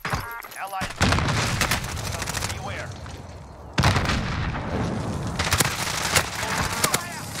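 Airstrike blasts and gunfire in a first-person shooter video game, a dense near-continuous barrage of booms and rattling shots with sharp impacts at intervals, player voices talking over the din.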